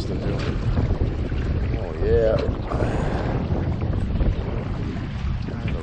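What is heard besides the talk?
wind and river current around a Grumman solo canoe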